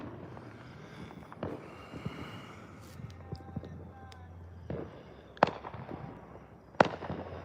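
Fourth of July fireworks going off outdoors, a few sharp distant bangs and crackles spaced apart over wind noise and low background murmur.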